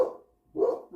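A dog barks twice indoors, two short, fairly faint woofs separated by a brief pause, with no talking.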